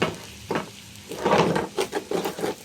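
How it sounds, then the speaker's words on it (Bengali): Rice grains frying in hot oil with salt in a pan for khichuri give a close, crackling sizzle in irregular bursts that swell and fade, with no talking. "শুনতেছেন চালটার শব্দ?"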